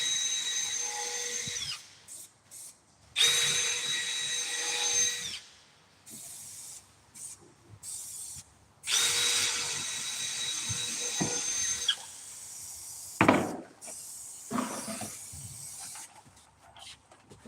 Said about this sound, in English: can you just chuck another two screws in